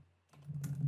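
Typing on a computer keyboard, a brief burst of soft clicking keystrokes that begins after a short quiet moment over a low steady hum.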